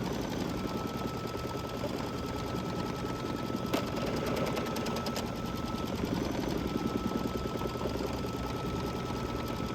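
An embroidery machine stitching a tack-down line through red fabric over flex foam, a steady fast mechanical whirring and ticking, faint and unbroken, with one brief sharp click partway through.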